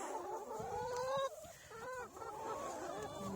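Hens in a hen house cluck and murmur in overlapping, close-up bursts, a busy continuous chatter of several birds that rises and dips slightly.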